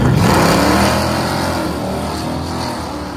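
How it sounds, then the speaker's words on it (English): A stick shift S10 pickup truck launches hard down a Northern Michigan drag strip, its engine roaring loud and close at first, then settling into a steady, slightly receding drone as it pulls away. "He's driving the stick shift S10 pickup truck on the right-hand side."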